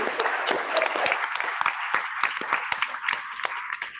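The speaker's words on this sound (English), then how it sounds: "Join me in applauding our own John Montgomery" A room full of people at a Kiwanis Club meeting applauds, dense steady clapping continuing for several seconds.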